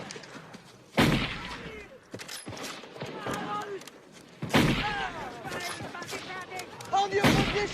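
Rifle shots ring out in a World War I war film, with about three sharp, loud cracks spaced a few seconds apart amid busy background activity and voices.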